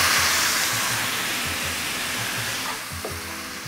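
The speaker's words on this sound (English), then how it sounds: "First thing we're going to do is add about a quarter cup of Skinny Latina." A quarter cup of Skinny Latina sauce hits a hot pan, giving a loud, steady sizzle and frying hiss that eases slightly toward the end.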